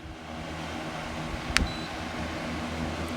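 A single short electronic beep from a large free-standing oscillating fan, setting 90-degree oscillation, rings out over the fan's steady, low whir.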